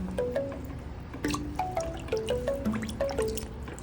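Warm water in a portable washing machine soaking shirts gives off a series of small bright drips and plinks in an irregular rhythm, close and quiet, with no talk.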